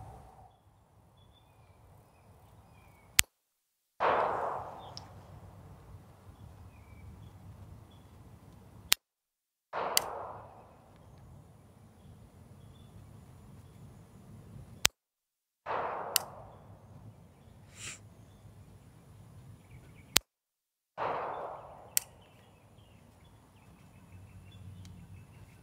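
A Girsan Regard Gen 4 pistol fired at a target on the range: five sharp, loud shots spaced a few seconds apart, each followed by a brief ringing echo against quiet surroundings.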